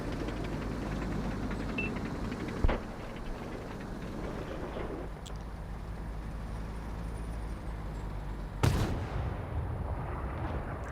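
Two loud cannon blasts from heat shells fired at a mech in a Salvage Yard game level, each a sharp boom with a brief tail, spaced several seconds apart over a steady rumbling background.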